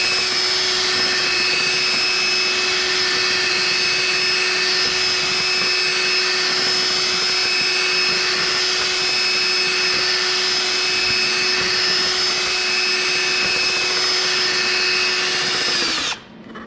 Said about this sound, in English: I just started mixing up this black epoxy